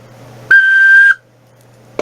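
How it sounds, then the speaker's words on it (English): A handmade bird-shaped whistle sounds a single shrill, steady tone for about half a second, loud and close, then cuts off, followed by a faint click. "is a whistle, and it's handmade"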